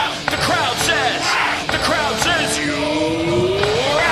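A cricket crowd at a T20 World Cup match in Chennai yells and whoops at a dismissal, many voices blending into a loud, rising roar with scattered shouts.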